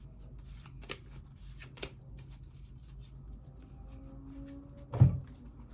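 Tarot cards are shuffled quietly at close range, a few soft riffling flutters and light card slaps separated by pauses, ending in a louder thump.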